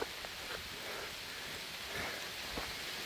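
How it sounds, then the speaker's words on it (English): Rain falls steadily on a woodland trail during an ultramarathon, a faint, even hiss of drops with a few soft patters. "The rain has arrived."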